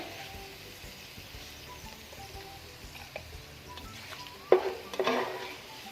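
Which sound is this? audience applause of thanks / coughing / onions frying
onions frying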